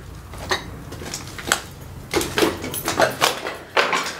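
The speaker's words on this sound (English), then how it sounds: "There's like some knocking sounds going on here." Irregular knocks and clattering thumps repeat through the clip, fairly close, some sharp and some dull, like wood or objects being struck.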